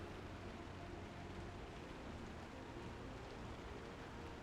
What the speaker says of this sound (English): Oh my gosh, it's raining out here. Well, I'm sorry, it's acid raining out here.